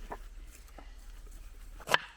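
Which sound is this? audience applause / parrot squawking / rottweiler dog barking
rottweiler dog barking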